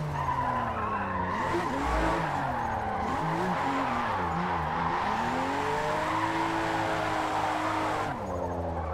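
A car drifting in Forza Motorsport, driven on a wheel, with loud sustained tire squeal and a revving, wavering engine note sliding up and down for several seconds before easing off.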